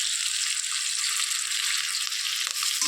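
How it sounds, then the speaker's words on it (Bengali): Constant crackling sizzle of green chillies frying in hot oil, close up and even throughout, with no voices. "এখন লঙ্কাগুলো একটু ভাজা ভাজা হয়ে এসছে"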